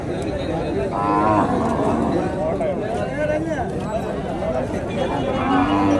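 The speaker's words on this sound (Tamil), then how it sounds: "பசு மாட்டு தாங்க நல்லா இருக்கு நல்லா லென்த்தியாக இருக்குது" Native cattle lowing amid a noisy crowd, with steady chatter and voices talking throughout, at a large cattle market in Matrapalli.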